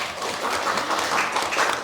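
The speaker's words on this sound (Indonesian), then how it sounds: "Tepuk tangan untuk kelompok 5 ya." A classroom group applauds briefly, a short burst of many hands clapping at moderate volume that swells unevenly over about two seconds.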